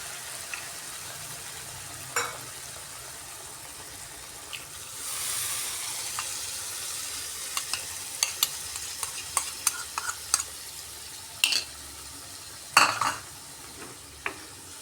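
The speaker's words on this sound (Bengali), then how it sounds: "এই মশলাটা দিয়ে একটু সময় কষাতে হবে" A spice paste of tomato, ginger, melon seeds and cashews sizzles softly in a pan for a potato curry, with a spoon scraping and clicking against the metal in scattered strokes.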